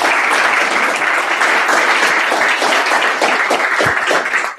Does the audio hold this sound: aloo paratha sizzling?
no